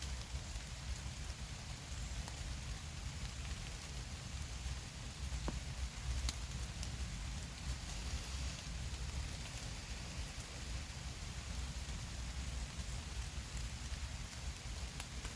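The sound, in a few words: rain falling in forest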